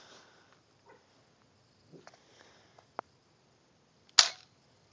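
A BB gun fires at a glass bottle outdoors, giving one sharp, loud crack near the end after several faint clicks and small handling noises.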